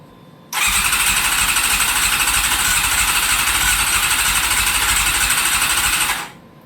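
A barn-find Honda CBR600 motorcycle, run out of fuel, is cranked without choke, giving a loud, steady buzzing whir for about six seconds before it cuts off abruptly.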